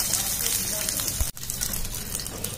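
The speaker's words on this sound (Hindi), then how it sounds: "और ये मूंगफली के दाने, और इनको हम भून लेंगे।" Peanuts roasting in ghee in a pan give a continuous crackling sizzle with a brief break midway and no voices.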